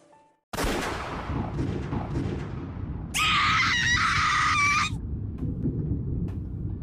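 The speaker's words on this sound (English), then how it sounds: "The sudden sound of gunshots shook me out of my half-sleep trance." Sudden loud blasts of gunfire erupt with rumbling echoes, and a shrill, screaming cry rises above them midway.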